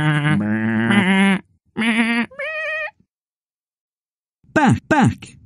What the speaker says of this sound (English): Let's try and make music by playing the sheep.